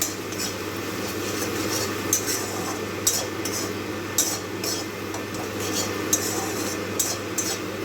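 Masala with turmeric and chilli powder being stirred and sautéed in a pan at home, steady scraping and clinking of a spatula against metal with a soft sizzle underneath, close and continuous.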